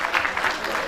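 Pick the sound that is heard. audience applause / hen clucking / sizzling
audience applause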